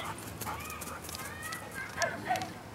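Dogs romping nearby with scattered yips and whimpery noises over a steady background hum, with people talking throughout.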